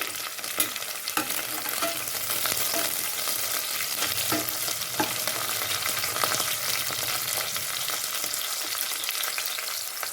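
Curry leaves and green chilies fry and sizzle steadily in hot oil for tomato rice, with occasional stirring scrapes of a spoon in the pan throughout.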